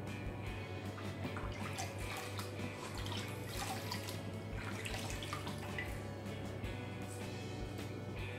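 Steady running water from a tap splashes continuously as soap is rinsed off, an even, close rush with small drips and no talking.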